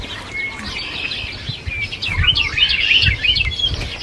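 Birds singing in a spring garden, several bright chirps and trilling phrases repeating at moderate distance over a soft outdoor background, growing busier toward the end with no talking.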